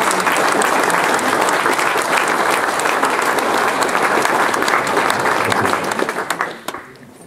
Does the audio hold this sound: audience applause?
yes